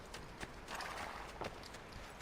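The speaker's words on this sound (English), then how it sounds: "Come on, horse." Horse hooves clip-clopping in the video game Assassin's Creed II, a quick uneven series of hollow knocks over a dense, noisy background, fairly faint and without voices.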